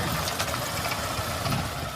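A motorcycle carrying two riders labours along a rough rural dirt road in Brazil's Northeast, its engine a low, uneven rumble with bumpy, rattling texture throughout.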